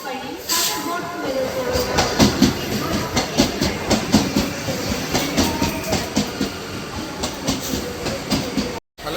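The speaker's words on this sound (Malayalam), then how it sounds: "ട്രെയിൻ പോകാറായിട്ടുണ്ട്" A train rumbles along with a rhythmic clickety-clack of wheels on rails, close and loud, with voices talking underneath.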